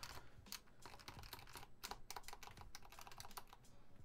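Keys on a mechanical keyboard are pressed and tested in quick irregular clacks, some in rapid runs and some alone, close and fairly quiet with no talking.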